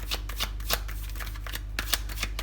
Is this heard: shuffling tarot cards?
yes